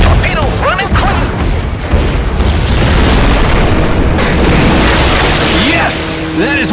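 A torpedo exploding against a submarine in the Heroes of the Pacific video game, heard as a loud, sustained booming roar that fills most of the stretch. Brief voice-like fragments surface near the start and end.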